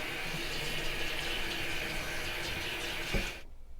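Cooked noodles for pad thai are rinsed under a cold tap, a steady soft hiss of running water that stops abruptly near the end after a brief clunk.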